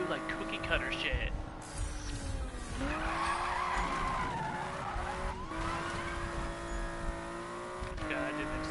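Tires skid and squeal through a long drift in a racing video game, a sustained engine whine with shifting pitch running steadily for the whole stretch, with game sounds mixed in.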